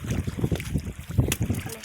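Wind blows over a river, gusting and buffeting the microphone in uneven, rumbling bursts throughout the short stretch.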